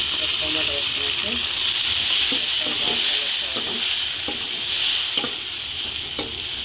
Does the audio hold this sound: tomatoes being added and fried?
yes